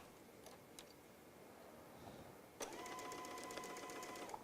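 A sewing machine stitches a fabric basket, its motor starting abruptly partway through and then running steadily with a fine rapid whir and faint ticking after a quiet stretch of room noise.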